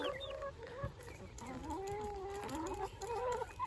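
Backyard chickens clucking and murmuring close by as a chick is reintroduced to the flock, a steady run of soft calls with a few higher squawks mixed in.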